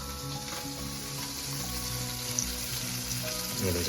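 Fish fries in a pan over a traditional wood-fired stove, a soft, steady sizzle and crackle heard quietly and close, with no voices.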